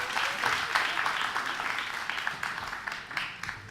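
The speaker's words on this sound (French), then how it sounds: "On l'applaudit s'il vous plaît" An audience applauds a contestant at a student quiz competition in Guinea, a steady wash of many hands clapping at moderate loudness for nearly four seconds, with no talking over it.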